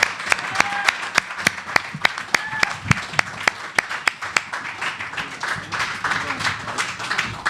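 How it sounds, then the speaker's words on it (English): Audience applause for a guest at a live event, opening with sharp distinct individual claps that thicken into steady clapping from a modest crowd. "First of all, a round of applause for Gordon Quinn."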